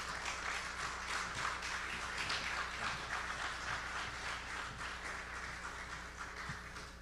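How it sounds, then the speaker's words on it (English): Audience applause at the opening ceremony of a broadcasting assembly as an award is collected, a continuous spread of clapping heard faintly at a distance over a low steady hum. "Ladies and gentlemen, a round of applause."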